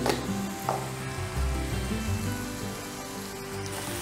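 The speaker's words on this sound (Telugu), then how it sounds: "సో ఆనియన్ అట్లా మంచి ఫ్రై అవుతున్నప్పుడు" Onions frying in a pan with a light sprinkle of turmeric and salt, giving a steady, dense sizzle that runs close and fairly loud throughout, with a couple of faint utensil touches.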